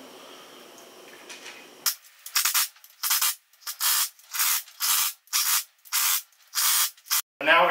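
An impact wrench with a 21 mm socket snugs down bolts on a Jeep Wrangler axle during a Yukon 4.88 gear install, firing about nine short, loud, evenly spaced bursts after a quiet start.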